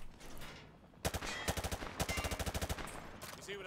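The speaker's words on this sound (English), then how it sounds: "He sprayed bullets all over the damn place." Gunfire from a soldier spraying bullets during a timed course run in the Modern Warfare 2 Campaign Remastered, with a few single shots, then a rapid rhythmic burst of closely spaced reports, loud and near.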